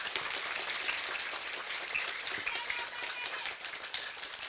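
An audience at an Islamic religious event in Pasaleman, Cirebon, Indonesia, applauds a children's religious school group with steady, dense clapping that stays even and fairly close throughout, with no voices over it.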